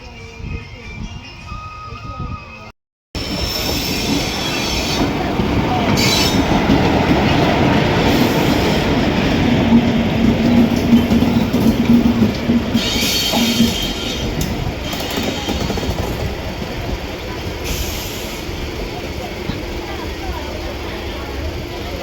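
A 12-car Arakkonam–Chennai Central local train pulls into platform 3 at Chennai Central station, rolling in with a loud, steady rumble, wheel clatter and squeal. A brief dropout interrupts it early on, and a voice can be heard over the noise.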